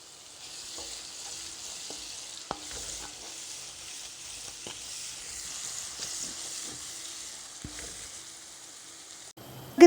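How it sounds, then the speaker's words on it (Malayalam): Salted prawns sauté in a pan for a prawn roast with a soft, even hiss and sizzle throughout, broken by occasional light clinks of stirring and a sharp knock at the very end. "ചെമ്മീനില്ലേ ഉപ്പൊക്കെ ചേർത്ത് ചെമ്മീൻ നമുക്കൊന്ന് വഴറ്റിയെടുക്കാം."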